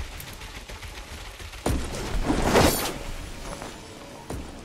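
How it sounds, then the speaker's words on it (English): Gunfire from the video game Fortnite, a burst of several shots near the middle with single reports before and after, heard at a moderate distance over quiet in-game ambience. "I heard gunshots."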